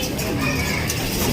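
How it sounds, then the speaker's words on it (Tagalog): Pigeons returning to their loft after a training release coo softly in a short burst, set against a busy, noisy outdoor background. "Ito na, nagsipasok na nga mga kalapati nga natin."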